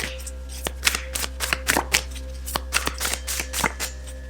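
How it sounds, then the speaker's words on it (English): Oracle card deck being shuffled, a steady run of crisp riffling card flutters and soft slaps, close and fairly loud, with a constant low hum underneath and no talking. "I'm going to get started here by shuffling this oracle deck"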